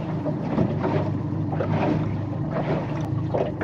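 A boat engine idles with a low, steady rumble beneath wind and faint water noise, close and unchanging throughout.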